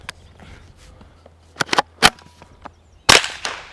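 A suppressed Ruger 10/22 with an integrally suppressed YHM barrel fires Winchester M22 supersonic rounds. Several sharp, close cracks stand out against a quiet background, with a louder final shot near the end.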